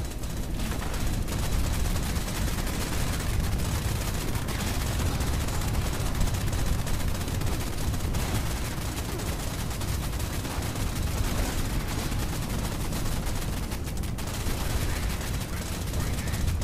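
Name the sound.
50 caliber machine gun firing in video game Fallout 76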